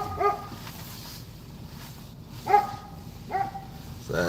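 A puppy out in the snow gives three short, sharp barks spaced a second or so apart, fairly close and clear against quiet outdoor background.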